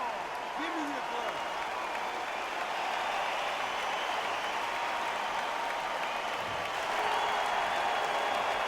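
Crowd applause in the boxing video game Undisputed, a steady, distant roar of clapping and cheering that runs throughout beneath a faint commentator's voice.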